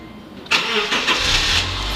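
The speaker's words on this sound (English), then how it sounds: "and voila, the car remote starts." A Subaru Legacy engine, started by remote start, cranks and catches, then settles into a low steady idle, close and fairly loud.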